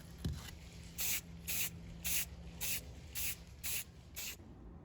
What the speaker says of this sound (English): I'm also going to use the light color for a top spray to bring out and create some highlights.